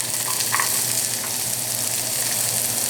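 Chopped onion, added after garlic to a hot pan for an omelette, fries with a steady, close crackling sizzle that holds evenly throughout.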